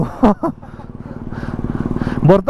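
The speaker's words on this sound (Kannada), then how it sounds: "ಒಂದು ಬುಜಾ ಬರ್ತಾ ಇದೆ, ಅದನ್ನೇ ಹೇಳ್ಕೊಂಬಂದೆ" A Suzuki Hayabusa motorcycle approaches, its engine drone swelling steadily from near silence to a rhythmic, pulsing growl. Short bursts of talk come at the start and again at the end.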